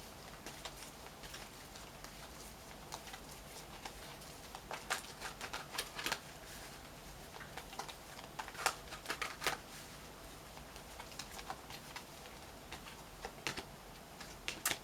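Tarot cards being pulled from a deck and laid down on a table, scattered soft slaps and papery flicks in irregular clusters over a faint hiss, close and quiet, no talk.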